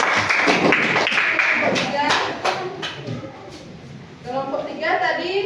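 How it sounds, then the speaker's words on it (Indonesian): A classroom of young children clapping for a group of classmates, a ragged burst of many small hands that fades midway and picks up again near the end, with voices talking over it. "tepuk tangan buat kelompok 1"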